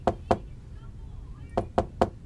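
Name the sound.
knocking on a door in a video game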